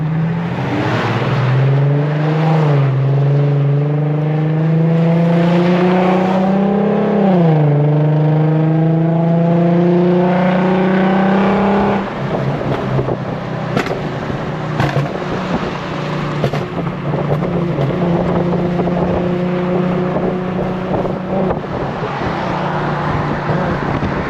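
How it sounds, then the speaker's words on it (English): A tuned Infiniti Q50 with a popcorn map makes a loud exhaust drone that rises and dips with engine speed. It cuts off after lift-off, followed by sharp scattered pops and bangs on the overrun, with no talking. "I like the little pops."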